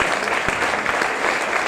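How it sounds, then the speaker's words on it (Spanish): An audience at a Spanish-language church conference breaks into loud, sustained applause, dense overlapping clapping that fills the short moment without a break. "¿Le puedes dar otro fuerte aplauso?"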